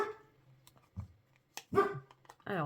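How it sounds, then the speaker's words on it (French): A dog barks in a few sharp, separate outbursts at close range in an indoor setting, with a voice talking between them. "j'ai Buena, la chienne de mon copain, qui est avec moi à l'étage. Et évidemment, au moindre bruit, elle s'affole"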